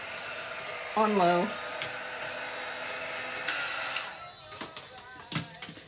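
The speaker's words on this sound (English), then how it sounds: "So I'm gonna dry it up right fast, just with a heat gun." A small, inexpensive heat gun, similar to a blow dryer, blows a steady whooshing hum while drying wet paint on a tree-and-water scenery painting. A person speaks briefly over the airflow, and a few light clicks follow near the end.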